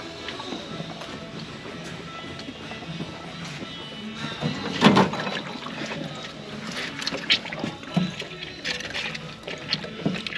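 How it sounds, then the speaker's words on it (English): An oily engine part is washed by hand in a solvent tank, giving continuous irregular splashing and sloshing with scattered clinks and drips, moderately close and fairly quiet, with a louder splash midway. "I'm going to go to the solvent tank and wash that"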